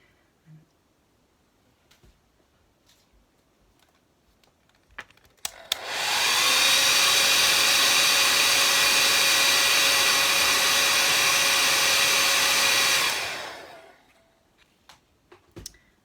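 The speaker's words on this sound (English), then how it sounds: "I'm just going to give it a quick dry with a hairdryer." A hair dryer switches on and blows steadily for several seconds with a constant whooshing hum while drying a watercolour painting, then cuts off; faint clicks before and after.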